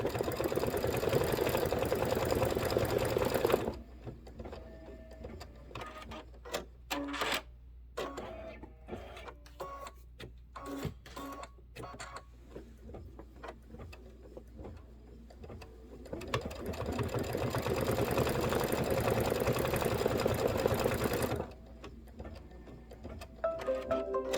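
A Kimberbell embroidery machine stitches white berries on a wreath design, a steady rapid mechanical whir in long runs broken by a quieter stretch of intermittent ticks and clicks, close and alone with no talk.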